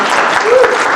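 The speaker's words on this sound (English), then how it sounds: "Clap." An audience at a research panel event claps in a dense, steady burst of applause lasting about a second, close and loud.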